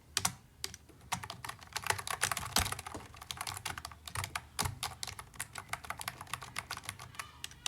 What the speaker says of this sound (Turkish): Ben klavyeyle oynayacağım.